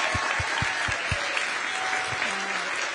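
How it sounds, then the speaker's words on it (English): Steady applause from a campaign-event audience in Pennsylvania fills the space, with a few low thumps near the start and under the clapping. "Yes, let's give them another round of applause."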